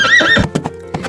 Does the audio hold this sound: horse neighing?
yes